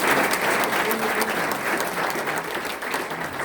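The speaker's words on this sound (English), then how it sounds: "So let's give them a round of applause as well." An audience at a history lecture claps for the students, with steady applause that is fairly loud at first and eases slightly toward the end.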